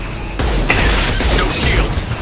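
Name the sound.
multiple impacts on ship in a video game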